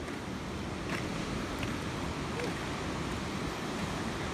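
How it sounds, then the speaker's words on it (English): Steady broadband rush of sea water and waves at a Barcelona waterfront, constant and fairly loud with wind noise and no distinct breaks. "Lots of water."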